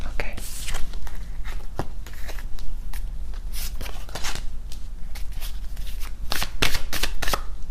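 Tarot cards shuffled by hand in a series of quick crisp riffling bursts and soft slaps, close and fairly loud, with a voice talking quietly between the shuffles.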